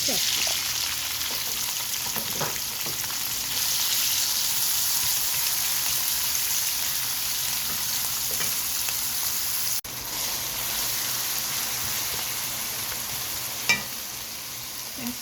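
Chopped onion frying in hot oil with whole garam masala spices, a steady close sizzle running the whole time with a few brief stirring clinks, while mutton with chana dal is being cooked.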